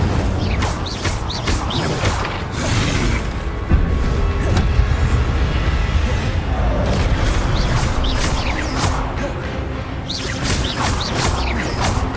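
Incendio fire spell cast in Hogwarts Legacy, a dense, loud burst of crackling fiery energy with booming, crashing impacts that rumbles on steadily for about twelve seconds, with no talking.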